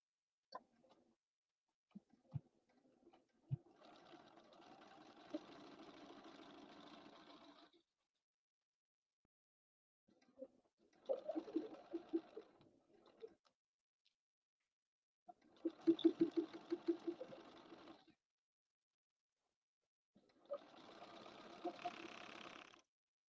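A home sewing machine set to a 2.5 straight stitch sews jeans in short bursts, four separate stitching runs separated by silence, with faint handling noises, fairly quiet.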